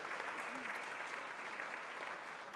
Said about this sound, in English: deserve that round of applause.